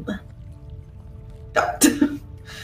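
Coughing, meant to sound like someone hacking up spider web, with a couple of harsh, close bursts near the end after a quiet stretch with faint background hum.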